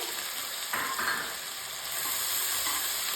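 Coarsely ground garlic and ginger fry in oil over a medium flame, giving a steady bright sizzle with a few stirring scrapes, close and continuous, no talking.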